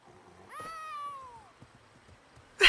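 A cat meows in the video game ESO Dragonhold, one clear, drawn-out falling meow lasting about a second against a quiet background, followed by a sudden loud burst at the very end.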